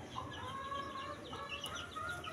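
An Aseel chicken clucks repeatedly in short, close bursts over a steady background hiss, with no talking.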